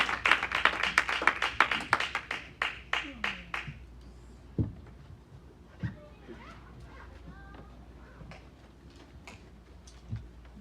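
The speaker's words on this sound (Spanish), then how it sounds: "No sé si le da un fuerte aplauso al Señor" A standing church congregation claps in a steady rhythm for about four seconds, the beats fading out before scattered taps and a voice continuing over a quieter room.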